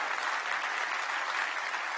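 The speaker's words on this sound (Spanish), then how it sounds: "Den un aplauso al Rey bendito." A church congregation applauding steadily, dense clapping that stays at an even, moderately loud level throughout.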